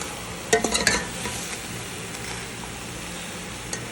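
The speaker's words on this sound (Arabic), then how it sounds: "نبدأ نشوح فيها ونحمسها." Skinless chicken with spices stir-fried in a pot, soft sizzling under a few sharp scraping stirs of a utensil early on, then a quieter steady fry.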